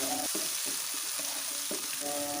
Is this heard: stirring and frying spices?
yes